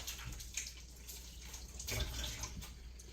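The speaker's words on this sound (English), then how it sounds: "let me wash my hands again just in case" Hands rinsed under a running kitchen tap, a quiet steady flow of water with faint splashes and drips, no voices.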